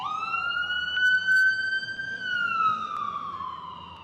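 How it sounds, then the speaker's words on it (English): An emergency vehicle siren wails in a steady rising and falling tone as it passes along a New York City street during a No Kings protest, loud and close over crowd and traffic noise. "here comes the ambulance"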